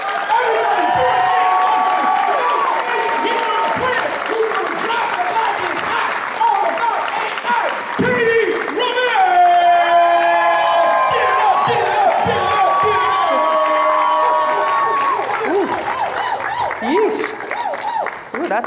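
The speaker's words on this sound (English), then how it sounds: "start clapping for our speaker right now" An audience applauds a speaker at a business talk, sustained loud clapping and cheering with whoops throughout, voices mixed in.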